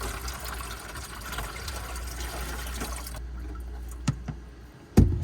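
Water poured during a first EVO X3 water filter change on a Brinkley, a steady trickling flow that stops partway through, followed by a few faint knocks and a louder clunk near the end.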